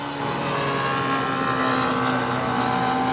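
Continuous droning buzz of a scratch-built Smith Mini Plane model aircraft powered by a Super Tiger 75 engine, steady and fairly loud throughout.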